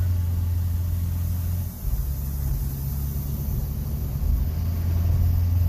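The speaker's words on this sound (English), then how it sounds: "Driving across an earthen dam right now." A car rolls across an earthen dam at Walnut Point State Park, its steady low engine rumble and road noise filling the cabin with a brief dip midway and no talking.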